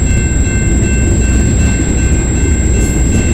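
Train passing on the Dundas Subdivision railway along Colborne Street in London, Ontario, a loud, steady close rumble of rolling railcars with a high wheel whine holding throughout.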